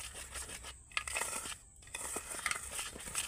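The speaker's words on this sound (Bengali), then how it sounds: "এবার আমি সব শুকনো উপকরণগুলো একসাথে ভালো করে একটু মিশিয়ে নেব।" Dry batter ingredients of flour, sugar and salt stirred together in a bowl for patishapta, giving soft scraping and rustling strokes with a few louder knocks, close and steady with no talk.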